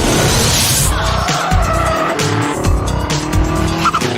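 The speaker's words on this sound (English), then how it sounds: "It's a Subaru R1 city car, and what they've done is turn it into this." A P2 race car built from a Subaru R1 city car drives hard, its engine revving loudly close by as the tires squeal and skid repeatedly through turns.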